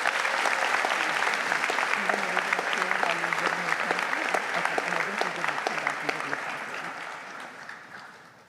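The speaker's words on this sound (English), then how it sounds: "Another round of applause, please." Applause from the audience at a UCLA medical school white coat ceremony, a dense and steady crowd clapping that runs the whole time. A voice speaks faintly underneath before the applause gradually fades at the close.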